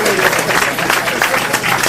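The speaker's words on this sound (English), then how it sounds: "Give him a round of applause for that." Audience applause fills a short stretch, a dense, steady wash of clapping from a crowd with voices mixed in over it.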